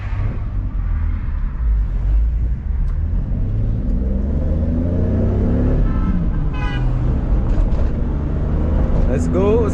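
A Toyota Supra engine rumbles and pulls steadily under loud in-cabin road noise during a drive, with people talking over it and a brief squeaky chirp near the end.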